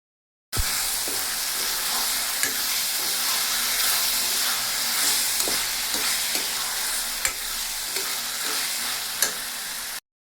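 Meat masala frying in a pan, a steady close sizzle with repeated clicks and scrapes of a spatula stirring, continuous throughout and without talk.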